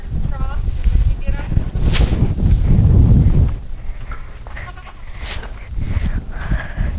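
Goats bleating on a farm, several wavering calls from nearby animals over wind noise and movement, with a person talking among them.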